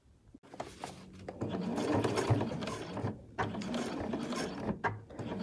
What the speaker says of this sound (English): My machine's quite happy to chomp through those layers, and I will finish off my binding with a machine stitch.